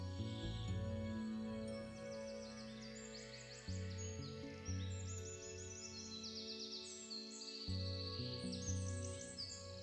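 Birds sing and chirp in a forest with repeated bright calls scattered through the scene. A steady, sustained tonal drone runs underneath at moderate loudness, and no one speaks.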